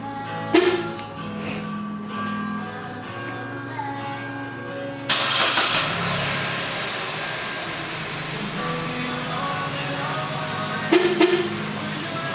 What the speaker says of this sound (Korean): 이렇게 원격 시동이 되면 깜빡이가 깜빡이면서 시동이 되었음을 알려주고요